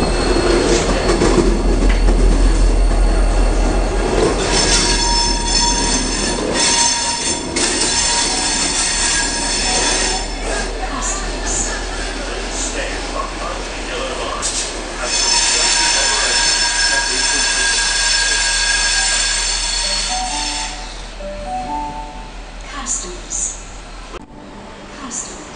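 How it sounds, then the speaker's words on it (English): Indian Pacific passenger train reversing along a station platform, with a loud, steady rumble of wheels on rails, squealing flanges and clanking carriages, broad rail noise that eases off toward the end. "Now reversing the train back onto the platform down further."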